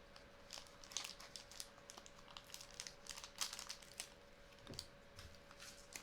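Scissors snip through the tightly sealed foil of a Magic: The Gathering Fallout collector booster pack, giving a run of close, crisp crinkling and cutting crunches in quick irregular bursts, with no talking.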